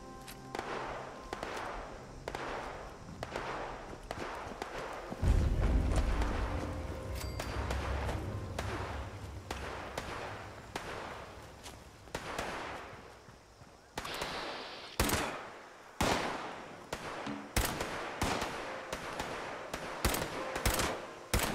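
Gunfire from farmhands shooting in the Fallout video game: repeated sharp bursts and single shots, some rapid and clustered, others spaced, over a steady low game background, loud and fairly close.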